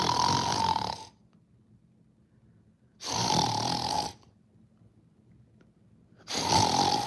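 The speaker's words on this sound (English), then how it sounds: "your little puppies that be in there snoring in the background" Three loud, drawn-out snoring breaths from a dog, each a raspy inhale lasting about a second, separated by quiet pauses, close up with no talking.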